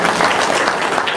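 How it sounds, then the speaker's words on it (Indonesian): Audience applause in an Indonesian lecture hall, a dense, steady wash of many hands clapping at once, loud and close for the whole moment, with no voice on top. "Tepuk tangan dong."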